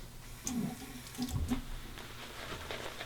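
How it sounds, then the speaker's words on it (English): Hot water runs from a bathroom tap while preparing a beard for a safety-razor shave, a soft, fairly quiet splashing with a few brief gurgling bursts and no talk. "A little more hot water."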